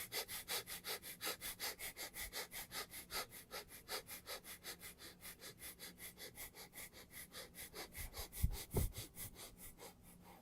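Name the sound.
short breaths into the gut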